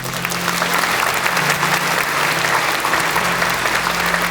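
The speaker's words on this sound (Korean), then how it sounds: "이제 청중을 향해 돌아서실 때 큰 박수로 축하해 주십시오." A church hall audience applauds newly ordained pastors at an ordination service, dense sustained clapping from a large crowd that stays loud and even throughout, with no voices over it.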